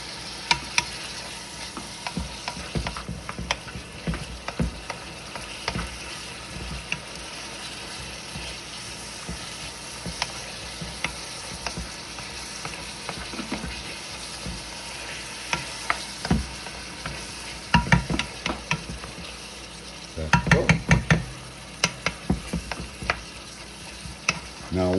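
Onions and garden vegetables frying in a pan as a soup base, a continuous soft sizzle with intermittent clattering stirs and scrapes that grow busier toward the end, close and fairly quiet, with no talk.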